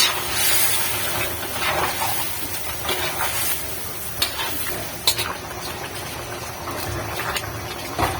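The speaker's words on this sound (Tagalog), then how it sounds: "saka natin ilagay ang ating pinalambot na langka So, haluin lang natin." Softened jackfruit is stirred in a frying pan, giving a steady close hiss and sizzle with occasional light scrapes and clicks of the utensil against the pan. No one speaks.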